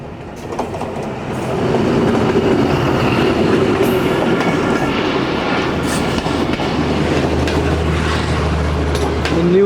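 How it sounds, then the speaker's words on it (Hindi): The 14 Down Awam Express, hauled by a ZCU20 locomotive, passes close by in Pakistan, a loud sustained rumble with rhythmic clickety-clack of wheels and a building roar, heard from aboard another train. "तो ये ZCU20 के साथ एक अदर ट्रेन आ रही है सामने से। ये 14 डाउन अवाम एक्सप्रेस है जी"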